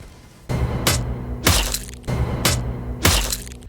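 Gunshot two-tap in the Anarea battle royale game trailer, two pairs of sharp, close, loud cracks, each pair a quick double shot, with a rattling tail between them and no talking.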